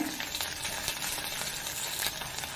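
Garlic, green chillies and curry leaves sautéing in oil give a dense, continuous crackling sizzle with faint stirring scrapes, close and even.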